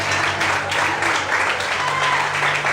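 Church congregation applauding during an evening service, a dense, steady wash of clapping that fills the space, with a low hum or instrument drone running underneath.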